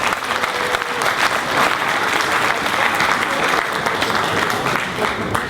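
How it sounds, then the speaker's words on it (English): An audience at a Chabad evening event claps loudly and steadily for several seconds, a dense and sustained round of applause filling the room. "Give yourselves a round of applause"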